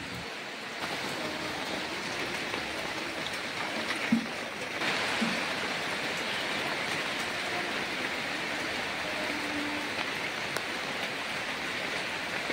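Floodwater runs through a village after heavy rainfall as a steady, faint hiss of moving water and rain that continues evenly throughout, with no voices.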